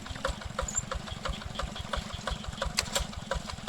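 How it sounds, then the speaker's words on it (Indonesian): A small engine on a rice field irrigation machine runs steadily close by, a rhythmic chugging thump with a fast, even beat and no voices over it. "Dan mesin juga sudah dihidupkan."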